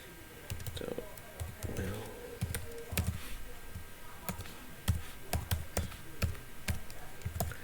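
Computer keyboard keys tapped in short irregular bursts while an email address is typed, close and moderately quiet, with a voice speaking over parts of it.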